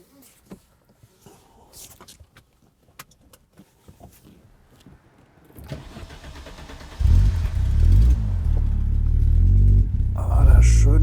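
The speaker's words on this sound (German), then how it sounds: "der schöne Fünfzylinder. Und so ein schöner, erdiger Sound." Audi 200 Turbo quattro five-cylinder engine cranks and fires after a stretch of quiet clicks and handling noises, then settles into a loud, earthy idle with blips of revving, close up.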